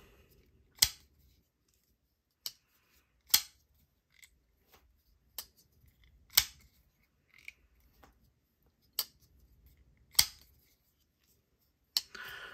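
Sharp, isolated clicks and snaps of a Tempest Knives Pinion budget folding knife being flicked open and shut, about ten crisp actions spaced unevenly over quiet, close to the microphone.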